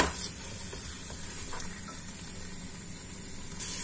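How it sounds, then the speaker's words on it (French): Meat browns in a pot with no water added, a steady sizzling fry with occasional stirring scrapes, close and continuous throughout, during preparation of a popular Moroccan dish. "Plus on rissole notre viande, on la laisse mijoter comme ça sans rajout d'eau"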